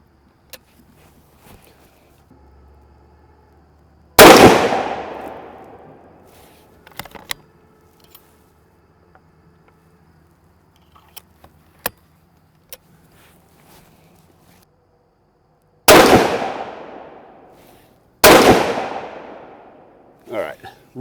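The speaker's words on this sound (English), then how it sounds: "we're going to shoot a group here at 100 yards" Three loud rifle shots fired with Hornady American Whitetail tipped ammunition at a 100-yard target, each a sharp close blast with a decaying echo, the first alone and the last two in quick succession, amid faint handling noises.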